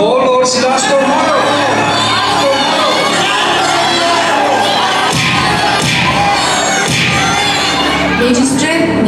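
A loud crowd shouts and cheers together on stage during a Christmas drama performance, a sustained roar of many voices with whoops and cries throughout.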